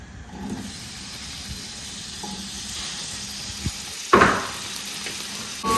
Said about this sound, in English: We are going to saute this onion